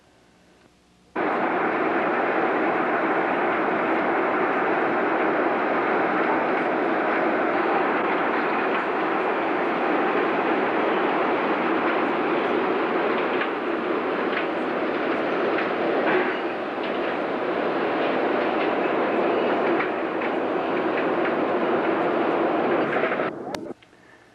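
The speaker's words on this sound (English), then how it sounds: "the windlasses which turn to pull and pull forward and reverse the scoops traveling longitudinally up and down the cargo hold" Windlasses pull grain scoops back and forth through the cargo hold of the lake freighter Merle M McCurdy at Buffalo, making a steady, loud mechanical rumble with faint clatter that runs unbroken for about twenty-three seconds.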